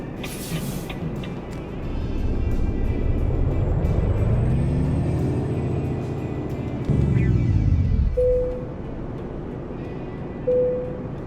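Volvo VNL 670 sleeper truck engine in American Truck Simulator, hauling a heavy load: a steady diesel drone that rises in pitch through a gear, drops after a shift, then settles, with a short air hiss near the end.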